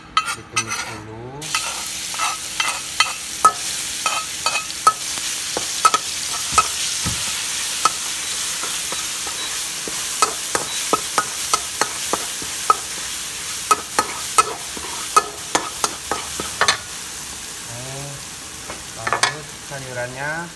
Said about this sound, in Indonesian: ini bumbu yang dihalusin ditumis dulu